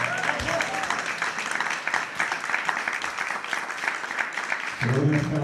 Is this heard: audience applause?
yes